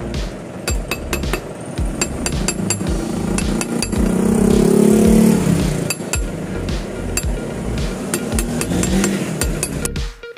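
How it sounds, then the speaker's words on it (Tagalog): A small hammer strikes a bicycle freehub spring to flatten it, a series of sharp metallic taps at a steady rhythm over a loud motor-like drone from a nearby engine. "Gagamitan natin ng maliit na martilyo."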